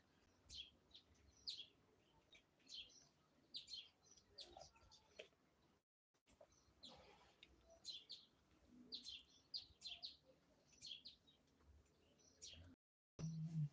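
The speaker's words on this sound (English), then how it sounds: "You can hear the bird screeching." Outdoors on a sunny but very cold day, a bird gives faint, repeated sharp chirps and calls in short bursts, heard at a distance with no talking.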